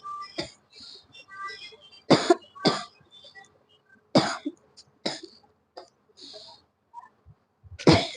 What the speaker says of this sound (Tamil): சாரி கைஸ், கொஞ்சம் இருமல் வந்துருச்சு.